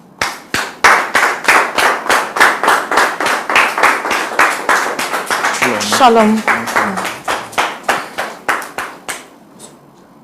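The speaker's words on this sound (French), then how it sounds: "s'il vous plaît, sous vos applaudissements" A studio audience claps in strong, evenly spaced rhythmic beats, loud and close, for about nine seconds; a voice speaks briefly over the clapping midway before it fades out.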